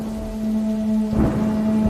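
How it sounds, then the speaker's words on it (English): A sudden crack of thunder rolls in over a constant wash of heavy rain, with a steady musical drone humming underneath. "there was a loud clap of thunder with lightning, and it started raining heavily"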